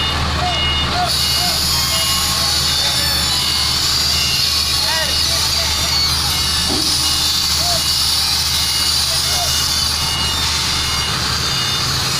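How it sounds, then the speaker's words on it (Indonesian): A very large machine engine runs loudly and steadily in Cikarang, West Java, Indonesia, a constant heavy drone with repeated chirping tones riding on top. "Sangat besar guys mesinnya."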